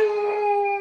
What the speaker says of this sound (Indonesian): Sorry kalau ada suara menggonggong karena ini di malam